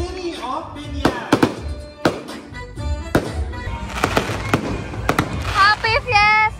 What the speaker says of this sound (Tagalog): Fireworks display as we conclude the 50th Puto Latif Festival of the City of Binyan.